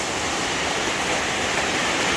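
Rain falls at night as a steady, dense hiss with no breaks, close and fairly loud all the way through.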